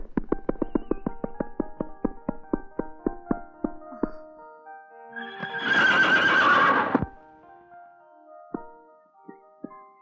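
A horse's hooves clip-clop in a steady, even rhythm close by, then the horse lets out a loud, drawn-out neigh, followed by a few more scattered hoof clops.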